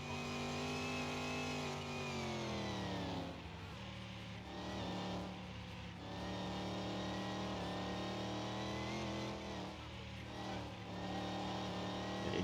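A race car engine in Car Mechanic Simulator 2021 revs loudly and continuously, its pitch climbing and then dropping sharply at a gear change around the third second, then holding a steady high drone for the rest of the run.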